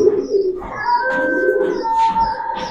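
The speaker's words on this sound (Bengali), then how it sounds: "এগুলো সুস্থ সবল কবুতর, নিশ্চিন্তে নিতে পারেন" Pigeons at a farm keeping high-flyer and fancy breeds coo steadily throughout, a low rolling murmur from several birds with a few brighter chirps over light background hum.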